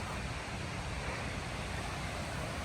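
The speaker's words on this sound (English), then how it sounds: "River's a little too deep and quick to be crossing it this time" Deep, fast-flowing river in Yosemite, a dense, constant rushing roar of water filling the scene at steady loudness, with no voices over it.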